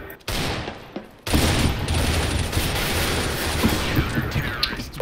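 Gunfire in a multiplayer video game: a near-continuous, dense barrage of rapid shots after a brief quieter start, loud and close.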